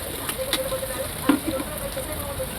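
Onions sizzling in a frying pan with salt, a steady close crackle and hiss running throughout with a few sharper pops.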